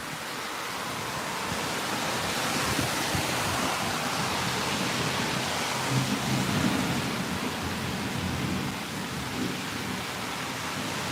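An Arizona monsoon thunderstorm brings a steady wash of heavy rain and wind, with a low rumble of thunder swelling faintly around the middle, distant and continuous with no talk.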